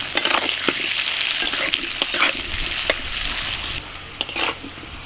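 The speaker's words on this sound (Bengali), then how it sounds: "আলুগুলোকে একটু লাল লাল করে ভেজে নিয়েছি," Potato pieces fry in hot oil in a kadai with turmeric and salt, a dense continuous sizzle broken by repeated scraping stirs of a spatula, close and loud.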